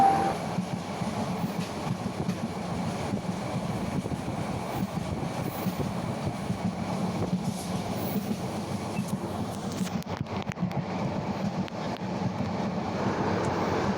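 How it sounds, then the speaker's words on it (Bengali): Inside a moving passenger train heading toward its destination from Cumilla, a steady low rumble of wheels and carriage runs continuously, with faint rattling clicks and no talking. "ট্রেন হচ্ছে গন্তব্যের দিকে ছুটছে।"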